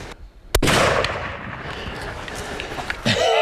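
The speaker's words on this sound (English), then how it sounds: "Shot, can you believe that? I hit him again" A single sharp, loud rifle shot fired at a cape buffalo on an African hunt, followed by outdoor rumble and a second fainter report near the end.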